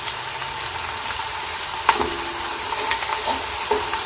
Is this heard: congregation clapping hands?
no